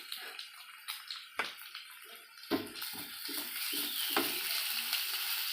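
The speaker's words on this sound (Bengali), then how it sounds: "প্রথমে কালো জিরে দিয়েছি, পেঁয়াজ কুচানো, আদা রসুন বাটা," Chopped onion, nigella seeds and ginger-garlic paste sizzle in hot oil in a pan, a crackling fry punctuated by repeated scraping and clattering strokes of a spatula, close by and without voices.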